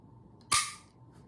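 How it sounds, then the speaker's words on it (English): Dry firing a .22 long rifle pistol: one sharp, close mechanical snap of the striker with a short ringing tail, otherwise quiet. "this one is the only 22 long rifle in the market that you could dry fire"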